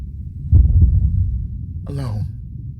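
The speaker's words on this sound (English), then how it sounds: "The dull thud of my heartbeat slows in my ears" Dull, low heartbeat thuds pulse close and heavy early on, then fade beneath a brief rising voice-like tone, set within a drowning scene deep in the Atlantic.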